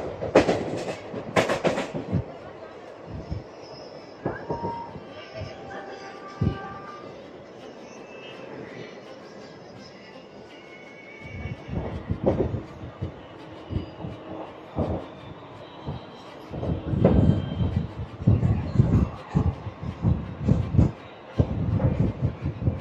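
Train on the Koraput–Visakhapatnam line near Parvathipuram station, heard as a low continuous rumble with intermittent clanks and rattling bursts that grow denser and louder toward the end.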